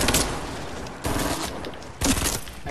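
Rapid bursts of video game gunfire ring out in three loud volleys, each breaking in abruptly and rattling on densely before the next, with no talking over them.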